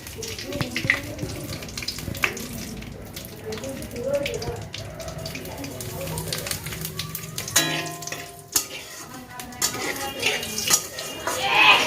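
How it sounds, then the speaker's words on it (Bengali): Bay leaves and cumin seeds frying in hot oil, giving a crackling hiss with bursts of spattering and clatter from the pan, close by; the sizzle rises and falls unevenly with watery-sounding noise mixed in. "আমি দুটো তেজপাতা ফোড়ন দিচ্ছি আর একটু জিরে ফোড়ন দেবো"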